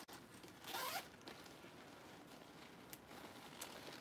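A zipper on a leather wristlet bag is pulled open in one quick, close rasp, then only faint handling noises and small clicks follow.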